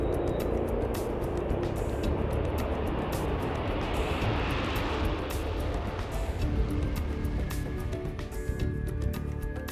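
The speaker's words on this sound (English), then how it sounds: "the world's premier supersonic passenger plane" A supersonic passenger jet roars overhead in a dense, sustained rumble that swells and then slowly fades.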